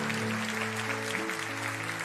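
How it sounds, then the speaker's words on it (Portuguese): A church congregation applauds in a soft, continuous patter, fairly faint and distant, with sustained organ-like tones underneath. "Aplauda o Senhor, aleluia."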